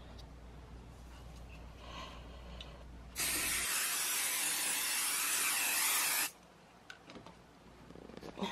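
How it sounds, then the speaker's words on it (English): A can of sewable adhesive spray hisses in one continuous burst of about three seconds, close and bright, used on fabric for machine embroidery hooping, with quiet room noise before and after. "I just spray that real quick."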